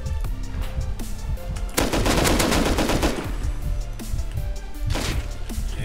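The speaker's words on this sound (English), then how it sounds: "they're shooting at each other" Rapid gunfire from players shooting at each other in the survival game Rust, loud bursts of automatic fire that swell into a dense volley midway and return near the end.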